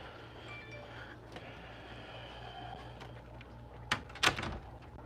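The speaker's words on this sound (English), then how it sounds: "Shut the door." A door is shut indoors, a sharp close thud followed by a brief clack near the end, over a quiet room hum with faint rustling.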